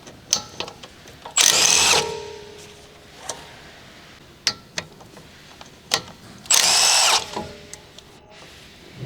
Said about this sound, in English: Using the large 13mm long socket with the large electric impact wrench, remove the brake caliper retaining bolts.